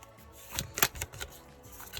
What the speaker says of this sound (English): so I'll shuffle it, and unless a message card comes out, I'm going to cut the deck